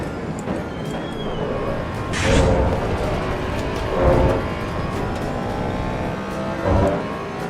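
A new Audi GT4 race car in the Assetto Corsa EVO racing game sounds through a steady engine drone, with three brief revving surges as it accelerates past.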